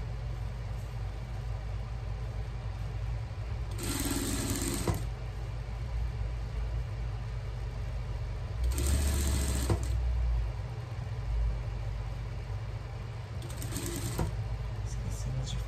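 A sewing machine stitches a hem in short bursts of fast mechanical whirring, three separate runs close by, with quiet pauses and low background hum in between.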